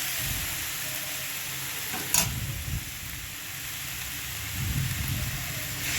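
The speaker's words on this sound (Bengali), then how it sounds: "সব মশলাগুলো ভালো করে দিয়ে সবজিটার সঙ্গে কষিয়ে নেব" Spices and a vegetable being sautéed in a pan for a Bengali home-style vegetable dish, giving a steady, fairly faint sizzle with soft stirring scrapes and one brief sharper clatter.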